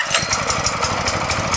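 A 7.5 HP power weeder engine running close by at a steady, rhythmic chug, loud and even for the whole moment, with no voices.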